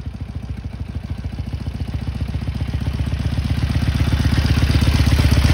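A Harley-Davidson 883 motorcycle engine runs with a steady, rapid loping rumble close by, gradually swelling in loudness as the throttle is opened.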